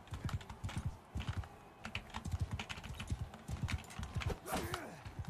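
Horse hooves gallop in the medieval combat game Mount & Blade II: Bannerlord, a rapid, busy clip-clop close by, with a brief whinny near the end.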